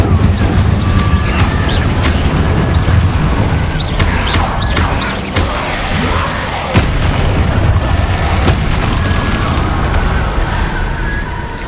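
A fire spell blasts repeatedly in a Hogwarts Legacy battle: loud booming bursts and crackling flame hits stack over one another, with sharp impacts spaced irregularly across a dense, rumbling game soundscape.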